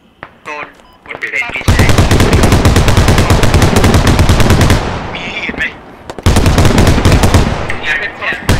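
Sustained automatic gunfire in the military shooter game Squad, loud close bursts of rapid rounds with a brief pause between two long strings, and a voice speaking faintly near the start.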